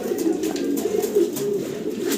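Low, throaty cooing from fancy pigeons fills the short stretch, a steady close warble from a few birds with no talking.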